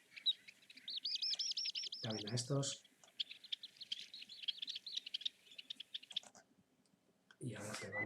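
Common greenshanks call in the Urdaibai wetland, a rapid run of repeated piping notes followed by a longer stretch of chattering bird calls, with someone talking briefly over them and again at the end.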